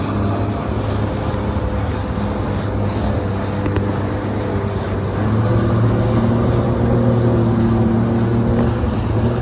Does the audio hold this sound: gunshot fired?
no